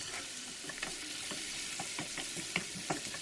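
Bell pepper and onion sizzle in a pan over medium heat, a steady close frying hiss broken by repeated scraping and clicking strokes as the vegetables are stirred.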